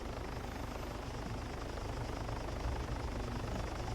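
A helicopter passes overhead in a video game, a loud, continuous, steady rotor thrum with a fast chopping pulse that fills the scene, heard alone without voices.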